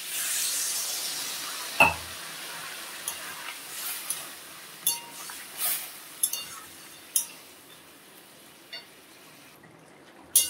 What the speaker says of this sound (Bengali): এখন আমি জল দিয়ে দিলাম।